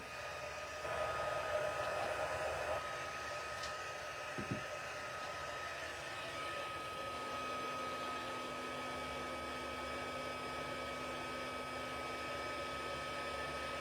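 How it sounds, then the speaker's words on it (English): A heat gun warms embossing powder on a crafting project, blowing with a steady airy roar that holds throughout, broken only by a faint click or tap midway and no speech. "Get my heat gun. Just warm it up a little bit."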